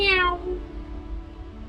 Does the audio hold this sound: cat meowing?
yes